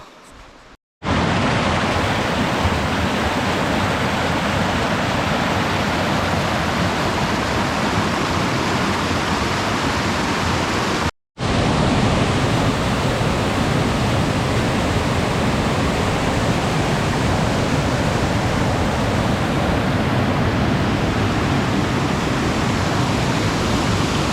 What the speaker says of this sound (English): I've got that waterfall behind me